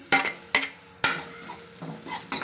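Ginger-garlic paste sautéed in a pan for baingan bharta, a spoon striking and scraping the pan in several sharp clinks over a faint sizzle, with no voices.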